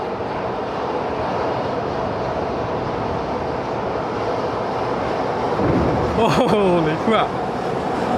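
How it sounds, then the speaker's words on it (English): A fast suspended Shonan monorail in Japan approaches under a steady ambient hum, then sweeps past close by with a rising, whooshing roar near the end, while a voice exclaims. "Let's see what it's like when the train passes by from here."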